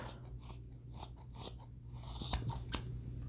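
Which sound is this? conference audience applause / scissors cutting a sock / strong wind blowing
scissors cutting a sock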